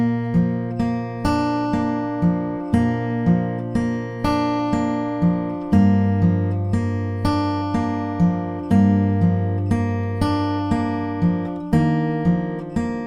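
Steady fingerpicked acoustic guitar plays the verse of a song, a continuous rolling pattern of evenly spaced plucks over shifting chords, played up close with no voices.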